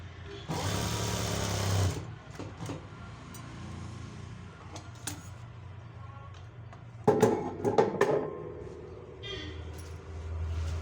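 Close by, a sewing machine stitches a fall onto a saree in bursts of fast, whirring stitching separated by pauses, while someone talks between the runs.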